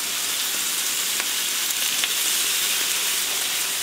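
Bacon fries in a hot greasy pan, turning crinkly, with a loud, steady, close-up sizzle and crackle throughout and occasional sharper pops.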